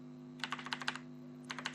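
Clicks of a computer keyboard during a JavaScript coding tutorial: two quick bursts of light keystrokes over a steady low electrical hum, close and fairly quiet, with no talking.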